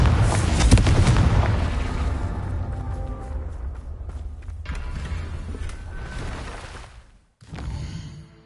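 A Confringo explosive spell blast in Hogwarts Legacy opens with a loud, heavy boom, then rumbling, creaking debris that slowly fades, cuts briefly to silence and returns at lower level.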